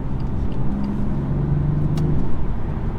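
A 2017 BMW 435d accelerating hard, heard from inside the cabin as a loud, steady diesel engine drone with rising road and engine rumble.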